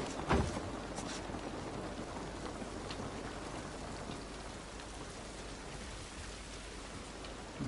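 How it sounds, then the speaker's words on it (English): Steady rain pours outside, a dense continuous hiss of drops hitting surfaces, fairly close and even throughout, with a couple of brief louder knocks near the start and no talking. "This rain ain't gonna do us any good."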